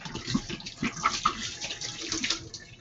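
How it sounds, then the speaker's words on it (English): Bottle caps rinsed under a running stream of hot tap water, with close, splashy spatters and uneven trickling for a few seconds and no talking. "I washed those bottles with really hot water"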